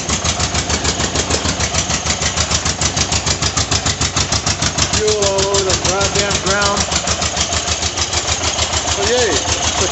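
An air-cooled 1982 VW Vanagon Westfalia engine runs steadily as it warms up, a loud, even throbbing idle with a faint whining tone rising and falling midway through.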